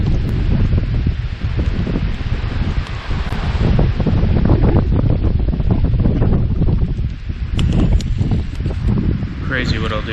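Strong headwind on a lake in the Ontario backcountry, loud buffeting gusts roaring across the microphone continuously with some rustling and water noise.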